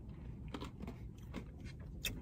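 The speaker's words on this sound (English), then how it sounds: "I don't know if you can hear how much I'm crunching." Close chewing of a Dairy Queen Candy Cane Blizzard, with several soft crunches and mouth noises over a low background hum.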